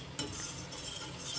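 Flour toasting in olive oil in a pan for a béchamel, a quiet, steady soft sizzle with a brief stirring scrape near the start, no voices.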